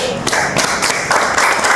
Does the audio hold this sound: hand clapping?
yes